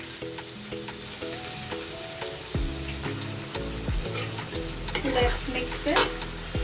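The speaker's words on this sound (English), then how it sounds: "Now into this I will add the onions first," Onions and green chilies sizzle in a hot pan for chicken tahari, with stirring scrapes and a rising crackle over steady background music; a voice speaks briefly.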